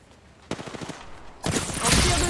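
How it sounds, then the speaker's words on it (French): Gunfire in the video game Apex Legends: a short rattling burst, then a louder, denser volley of rapid shots near the end, with no talk. "On tire dessus."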